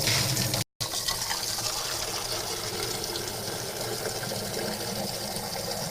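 Water from a utility sink tap in a laundry room runs steadily as a continuous gush that fills the clip, with one brief break near the start.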